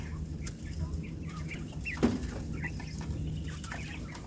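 Quail sitting in a quail tractor on a hot day, giving soft, scattered coos and clucks at moderate distance over a steady outdoor background hum, with one slightly louder call in the middle.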